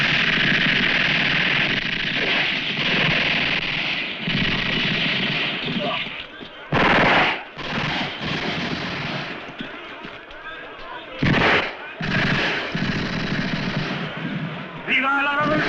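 A firing squad fires a rifle volley in a western movie: two loud, sharp blasts stand out from a dense, noisy soundtrack, and voices are heard throughout.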